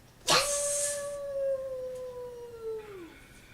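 A person imitating a wolf howl: a single long, sustained howl, starting with a sharp rise and holding a steady pitch before sliding down at the end.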